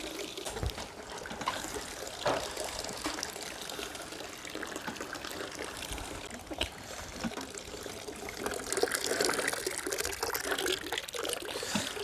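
Apple juice pours into a 20-litre bucket that is nearly full, a continuous close splashing trickle that keeps going throughout and swells slightly toward the end, with no voices.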